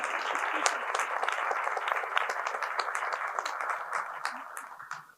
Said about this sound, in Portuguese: Palmas para o público.